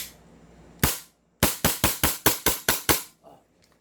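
A gas-powered airsoft pistol with a fixed outer barrel fires one sharp crack, pauses, then cracks off seven rapid, evenly spaced loud shots at close range with no voices.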